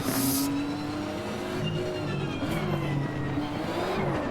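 Race car sliding through controlled slides in the Assetto Corsa racing game, engine droning and revving steadily with tire noise, loud and continuous throughout with no talking.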